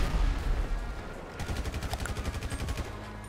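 Rapid automatic gunfire in GTA 5 rattles out in a steady burst of about twenty close, sharp shots after a short rumble, loud and alone without talk.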